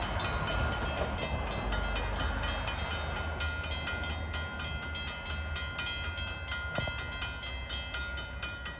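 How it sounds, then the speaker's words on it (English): NJ Transit train 55, running from Hoboken to Port Jervis, rolls through the Gertsen Plaza grade crossing north of Ramsey. A loud, steady rumble with a rapid clickety-clack of wheels continues throughout. "train 55 is coming en route from Hoboken to Port Jervis."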